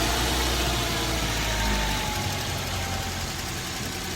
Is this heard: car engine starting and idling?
yes